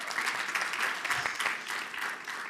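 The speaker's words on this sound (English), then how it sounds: "A round of applause." A short stretch of applause from an audience greeting a debate team, a soft, steady wash of clapping heard from some distance.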